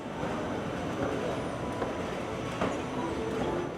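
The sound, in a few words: airport express train riding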